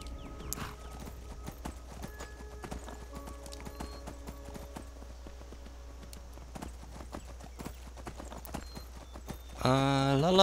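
A horse's hooves clip-clop steadily while riding through the wilds of Skyrim in the game, a rhythmic close trot over faint ambience, with a brief tonal sound at the very end.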